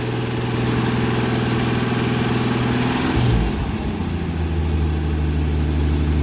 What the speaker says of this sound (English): that's a high idle